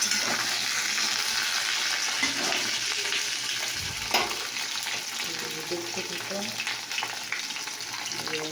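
Food fries in a pan before turmeric and cumin are added, a steady broad sizzle running throughout at moderate level, with a brief louder clatter near the middle and someone speaking briefly over it.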